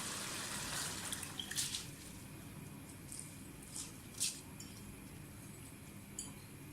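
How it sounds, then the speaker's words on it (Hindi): Water splashes and trickles into a pot of rice for matar aloo pulao, a steady wet pour with a few light clinks of metal or glass along the way. "चावलों में हमने पानी डाल दिया।"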